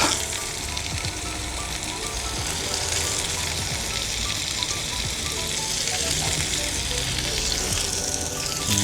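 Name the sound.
carrots sautéing in a pan for pancit bihon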